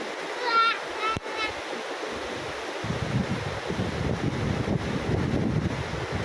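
The flooded Thotne Khola, a mountain river in spate, rushes with a steady, broad roar close by, the noise growing heavier and rougher midway, with some wind buffeting and a voice speaking briefly at the start.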